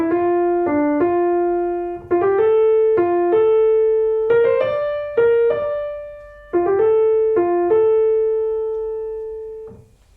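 A short melodic phrase is played as a sequence, restated several times at shifted pitches in clean, sustained tones with distinct note attacks. It is moderately loud, with no voices.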